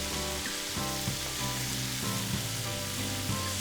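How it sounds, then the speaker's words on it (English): Chicken feet adobo with garlic fries in a hot pan, a continuous loud sizzle with rhythmic scraping thuds as it is stirred. "Let's dump it in. Stir it."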